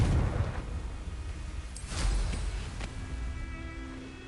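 A Confringo fire spell explodes in the video game Hogwarts Legacy, giving a deep rumbling burst with a whooshing blast and a swell near the middle that trails off into a lingering low roar.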